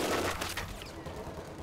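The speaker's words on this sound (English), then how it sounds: "my machine guns are definitely killing a whole lot" Machine gun fire in Company of Heroes 2 urban warfare, a short, fairly faint crackle of rapid shots over a dense battlefield din.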